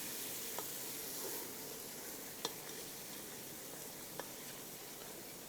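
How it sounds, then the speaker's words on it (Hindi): Masala with salt and yogurt frying in a pan for a taftan recipe, giving a steady, even sizzle with a few soft clinks of stirring, fairly quiet and close, with no talk. "अब अच्छे से आपने इसको भूनना है।"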